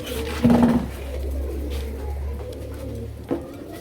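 Indian chocolate dum pigeons, a large-beaked, cream-eyed breed, coo in low, throaty tones close by, with a soft knock or clatter near the start and another near the end.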